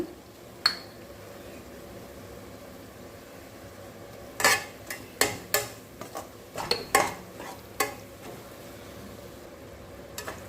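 Pirandai thokku with kodampuli is stirred and sautéed in a pan: scattered metallic clinks and scrapes of a spoon against the pan come in quick bursts over a faint, continuous sizzle.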